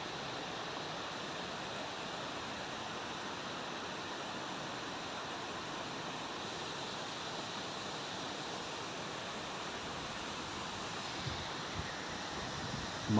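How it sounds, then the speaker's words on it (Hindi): Waterfall of the Kalp Ganga near Kalpeshwar temple in the Himalayan hills, a steady, close roar of rushing water that holds even throughout with no talk over it. "मन तो कर रहा था इस झरने के नीचे खड़े होकर पूरा भीग जाने का"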